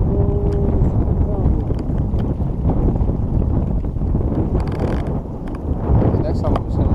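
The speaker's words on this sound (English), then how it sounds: "it's crazy windy out here." Strong wind gusts buffet the microphone at San Pablo Reservoir during a catfish outing, a loud continuous roar with flutter and rumble, water lapping near a boat, and voices talking faintly underneath.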